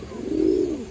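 A single large pigeon gives one soft, low coo up close, rising and falling over about a second with no voices.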